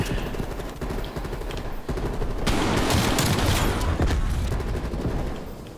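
Dense, sustained automatic gunfire in a Call of Duty: Black Ops Cold War match, loud and continuous bursts that build and stay heavy for several seconds with no talking.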